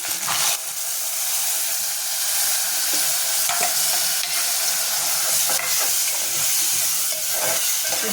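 Tomato juice fries in oil for tomato rice while being stirred, a loud, close, continuous sizzling hiss with occasional scraping stir sounds and soft bubbling, no talk.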